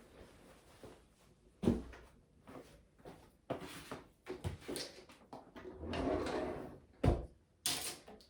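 A bedroom drawer slides open and shut several times, with soft wooden thumps and rattles scattered among quieter handling noises, close and moderately loud in a quiet room.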